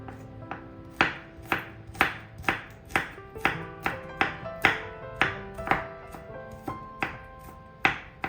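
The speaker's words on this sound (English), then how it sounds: "mince your garlic with sharp knife" A sharp knife minces garlic in crisp, evenly spaced chops, about two strikes a second, each a close, sharp knock on the cutting surface with no talking.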